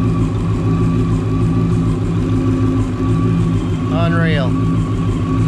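Close, steady idle of an 800 hp Whipple-supercharged 1993 Ford Mustang GT fox body V8 on its first start: a thick rumbling hum with a smooth, even pulse. Someone briefly speaks over it near the end.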